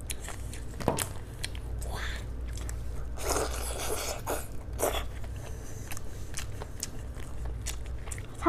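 Close, crisp bites and wet chewing of steamed chicken, with crunchy snaps and scraping clicks recurring through a steady mouth-sound sequence, no talking.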